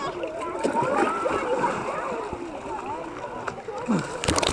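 A person jumps into a swimming pool, and water splashes and sloshes close by for several seconds while voices talk over it.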